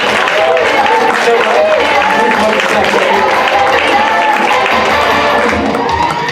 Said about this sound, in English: Round of applause for Chris, our first volunteer.